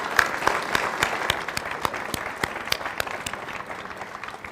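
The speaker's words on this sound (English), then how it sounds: "Let's give them a round of applause." A synagogue congregation at a Yom Kippur afternoon service applauds, a loud, dense clapping from many hands that fills the room and gradually thins out.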